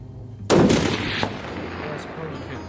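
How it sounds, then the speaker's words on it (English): A single sharp rifle shot cracks out close by while a hunting rifle is test-fired before a bezoar ibex hunt, followed by a long rolling echo that fades across open terrain. "Just tested the rifle, dead on at 200, dead on at 440"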